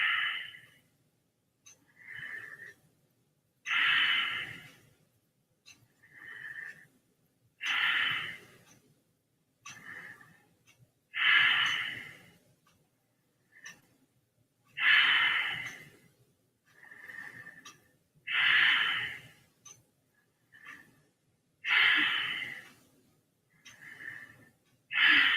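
Slow, deep breathing during a yoga stretching routine: repeated long inhales and exhales about every three to four seconds, each swelling then fading, close and fairly loud, with short softer breaths between them and no talking.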